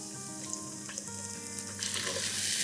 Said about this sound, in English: Let's begin with red onions, finely chopped, and saute this till they just kind of begin to turn golden brown in color.